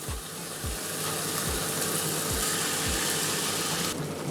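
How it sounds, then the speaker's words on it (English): Pork searing in a pan for brown stew pork, a dense steady sizzle and hiss with faint low thumps underneath, loud and close with no talk. "you want to make sure that it gets a nice sear on all sides"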